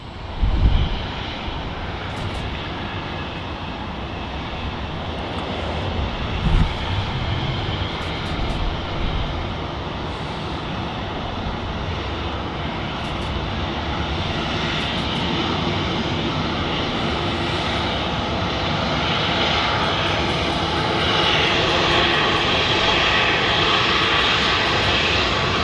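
A Ryanair airliner's jet engines roar continuously at Manchester Airport, a loud, broad, steady rumble that holds and slowly swells over nearly half a minute, with faint clicks above it.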